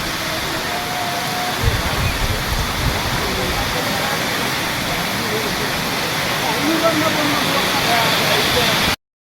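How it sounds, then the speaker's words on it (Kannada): Steady, dense rain hiss that fills the whole scene, heavy and continuous, with a brief low thump partway through. "ಅಲ್ಲಿ ಮಳೆ ಸ್ಟಾರ್ಟ್ ಆಗ್ಬಿಡ್ತು"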